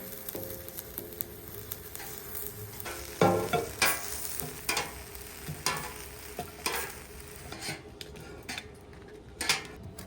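Dried chile peppers toasting briefly in hot oil in a pan give a soft, continuous sizzle. Repeated scraping stirs and light clinks of a utensil against the pan sound close up.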